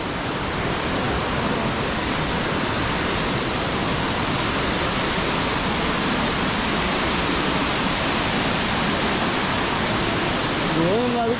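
Elephant Falls in Shillong, Meghalaya, pours in a continuous, dense roar of falling water, loud and unbroken throughout, with a brief voice surfacing just at the very end.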